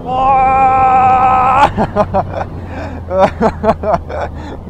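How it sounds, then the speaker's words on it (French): A Triumph Rocket 3 R triple-cylinder motorcycle holds a steady, loud, harmonic engine note for over a second, then gives way to several short rising revs or gear-change bursts, with a voice speaking over it. "Oh, le moteur."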